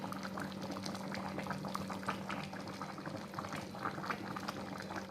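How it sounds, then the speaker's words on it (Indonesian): Chicken liver and gizzard simmering in liquid as the cooking water reduces, a steady close bubbling and gurgling with dense popping textures running continuously, no voices over it. "Ini diungkep dulu sebentar sampai airnya menyusut ya,"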